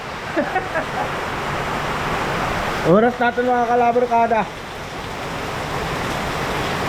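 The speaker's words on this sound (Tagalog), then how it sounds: "Tanghali na, pero tignan nyo, wala pa rin katapusan ng ulan. Napakalakas." Relentless typhoon rain keeps up a broad, even hiss throughout, while someone talks briefly over it partway through.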